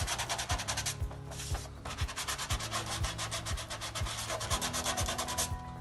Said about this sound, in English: So I'm going to take 120 grit sandpaper. I'm going to do an X.